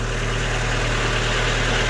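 A Komatsu FD18L forklift engine, revving slightly too high, runs at a steady, loud idle, with a constant low droning hum and vibration throughout.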